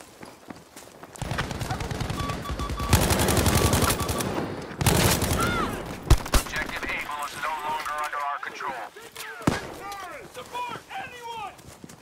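Machine gun fire in Battlefield V, with dense rapid bursts of shots at close range mixed with other battle noise. People talk over and between the bursts.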